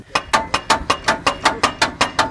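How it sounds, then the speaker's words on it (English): A loose brake caliper with a missing bolt makes rapid, regular metallic clunking, about five knocks per second, repeating evenly as the wheel turns. "there's this mad clunking noise, and I think I found the issue"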